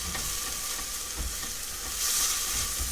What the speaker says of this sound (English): So I'm going to go ahead and add my garlic.